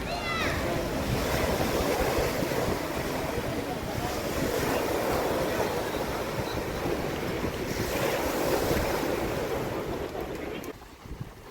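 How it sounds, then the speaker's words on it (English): Ocean waves break and wash onto the smallest beach in Almeria, Spain, a loud, continuous surf roar with swells of rising and falling intensity, mixed with wind buffeting the microphone, easing off near the end. "This is the smallest beach in Almeria."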